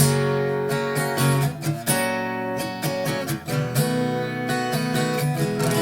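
An acoustic guitar plays the chords of a song, strummed steadily and close, ringing notes sustained between repeated strums with no talk.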